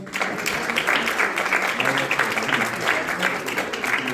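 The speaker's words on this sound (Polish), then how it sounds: "wielkie brawa" At a ceremony handing out a district head's scholarships, the audience applauds laureates called to the stage, a busy, fairly loud clatter of many hands clapping continuously.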